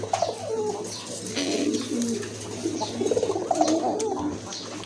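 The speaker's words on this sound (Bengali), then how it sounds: "এই যে দেখেন খুবই সুন্দর এক জোড়া কবুতর" A pair of pigeons coo repeatedly, soft low rolling calls close by, with faint rustling and a steady low hum in the background.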